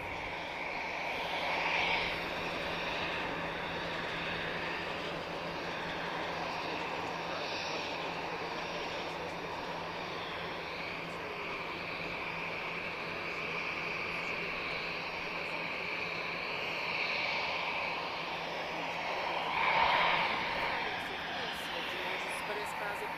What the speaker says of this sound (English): the Embraer with the Royal Air Maroc